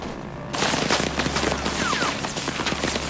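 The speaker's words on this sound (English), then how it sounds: "Basically a big plane gunship flying down and absolutely slaughtering anyone that gets in its way." Rapid fire from a Spooky gunship in the Vietnam-era game Rising Storm 2: Vietnam, breaking in suddenly after a quiet start as a loud, dense, continuous barrage of shots over a low rumble.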